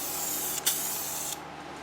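Rustoleum Custom 5 in 1 spray paint sprays through its narrow nozzle in a steady close hiss. It lasts about a second and a half with one short break, then cuts off.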